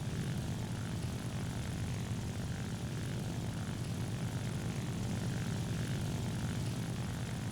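Propeller engine of an Ilyushin IL-2 ground-attack plane in the War Thunder combat game, a steady loud droning roar that holds without a break, with no talking.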